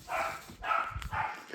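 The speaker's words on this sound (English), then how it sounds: "Sorry about my dogs, they won't be quiet" Three evenly spaced barks come from pet dogs inside a home, moderately close and fairly soft, with no talking around them.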